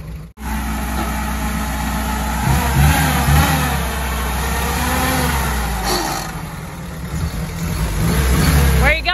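An old jeep's engine rumbles close by and revs up as it pulls away, rising and falling in pitch, with people talking over it.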